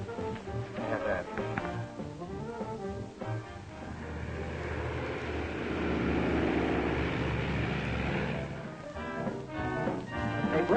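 The engine drone of a plastic airplane flying overhead in a 1941 film swells in the middle and then fades, with busier mixed sounds before and after.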